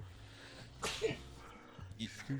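A single sharp sneeze bursts out, followed by a short spoken reply and some quiet conversation nearby.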